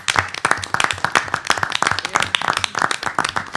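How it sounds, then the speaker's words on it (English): School board members and attendees at a special district board meeting applaud the superintendent and staff, a dense, close run of many hands clapping briskly and steadily at fairly strong volume. "Dr. Walicki and her entire staff deserve a big round of applause from this board"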